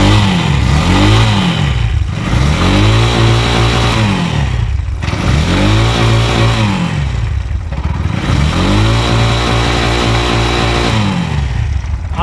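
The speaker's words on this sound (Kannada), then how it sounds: "ಸ್ಟಾರ್ಟ್ ಆಯಿತು ಗಾಡಿ ಒಂದೇ ಸೆಲ್ಫ್ಗೆ." A Bajaj BS6 CNG auto rickshaw engine started on the self-starter, then revved repeatedly in loud, close, rising-and-falling surges about every three seconds, with a clattery idle between, and no talk.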